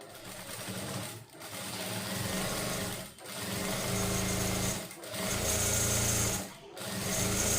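An electric sewing machine runs in long steady bursts, stitching double seams on a 16-panel lehenga, its fast needle whir pausing briefly three times between runs.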